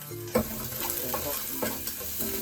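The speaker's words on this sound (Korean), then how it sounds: "이제 버터가 좀 녹았다 싶으면 우유를 넣어야 되는데" Butter melts and sizzles in a pan with a quiet, even hiss, a brief clack of a utensil near the start and soft stirring scrapes throughout.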